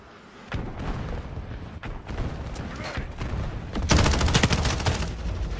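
Friendly artillery strike lands in Modern Warfare 4 gameplay, a dense barrage of heavy blasts that swells loud after a stretch of scattered gunfire and thuds.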